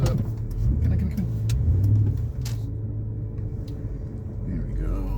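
A car rolls up from behind in a mountain parking area, a steady engine rumble and road noise that swells and then holds, fairly close and loud, with no talk.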